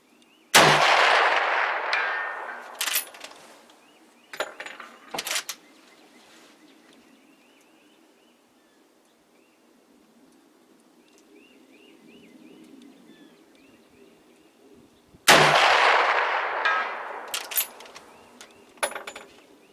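Rifle fire from a 1971 NRA Commemorative Model 94, two loud, close shots each trailing off in a long outdoor echo about fifteen seconds apart, with a couple of sharp mechanical clicks in the quiet stretch between.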